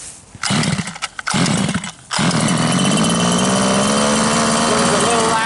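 HPI Rovan gas-powered RC buggy engine catching after a few short pulls, then running steadily at a loud, buzzing high idle with its pitch slowly rising, close by.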